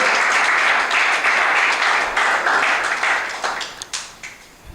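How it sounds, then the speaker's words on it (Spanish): A church congregation bursts into loud, dense clapping that holds strong, then thins out and fades into a few scattered claps at the end. "dale un fuerte aplauso al Rey"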